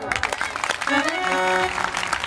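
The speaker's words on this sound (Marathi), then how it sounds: "टाळ्या वाजवा" Audience applause at a Marathi devotional talk, a broadband wash of clapping running through the whole moment while a voice speaks over it, with tonal vocal traces in the middle.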